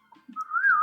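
Person whistles one short rising-and-falling tune, near and clear after a soft breathy start, with no speech over it.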